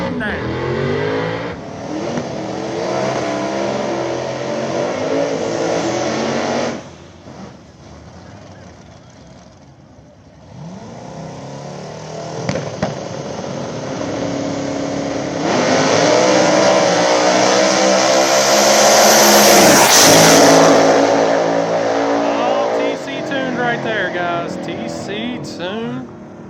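Small tire drag race cars roar down a back-of-the-track strip in Columbus, Ohio, loud engine noise building to a peak as they accelerate, with a commentator talking over it.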